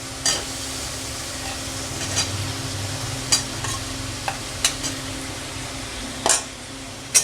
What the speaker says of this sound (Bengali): আমি এবার আলুগুলো দিয়ে দেব, দিয়ে আর একটু কষে নেব 2 মিনিট।